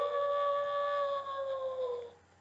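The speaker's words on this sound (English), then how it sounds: "Then there's the lone wolf." A lone wolf gives one long, steady howl that holds its pitch for about two seconds and then fades, clear and alone against a quiet night background.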